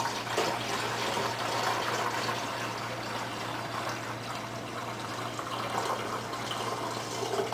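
A liter of water poured into a bottle to rinse out maple syrup residue, a steady, continuous splashing and gurgling pour, close and alone with no talk.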